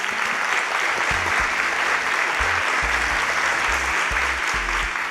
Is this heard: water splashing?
no